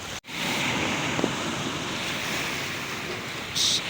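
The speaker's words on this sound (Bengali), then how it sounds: "এই যে সমুদ্রের গর্জন শুরু হয়ে গিয়েছে।" Waves wash continuously against the bank of the Meghna River during the monsoon in a steady roar, with wind buffeting the microphone throughout.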